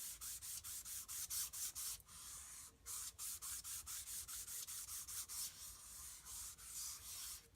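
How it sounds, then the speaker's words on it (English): Steady back-and-forth rubbing of an Embossing Buddy across card paper, a quick rhythmic run of close, dry scrubbing strokes with one short pause midway. "you're going to take your Embossing Buddy and just get this nice and clean."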